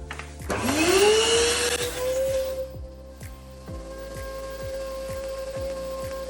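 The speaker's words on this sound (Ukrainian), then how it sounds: "використовуємо пилосос." A vacuum cleaner starts up with a rising whine and rushing hiss, then settles into a steady drone with a faint rhythmic ticking underneath, sucking a string through a pipe to pull cable.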